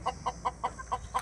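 Chickens clucking at home, a quick rhythmic series of six short clucks at even spacing, fairly close and clear over quiet background.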